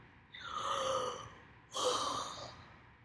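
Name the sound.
yawn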